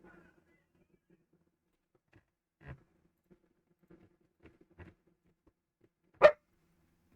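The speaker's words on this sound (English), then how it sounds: "Don't you bark at me, you little terror." A dog gives a single sharp, close bark after a few faint scattered taps and soft thuds in an otherwise quiet room.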